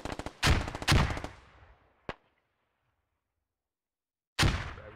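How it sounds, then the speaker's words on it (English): Frag grenades go off in the military shooter game Squad: two loud, close blasts in quick succession with rattling decay, a sharp crack, silence, then another explosion at the end. "Throwing frags."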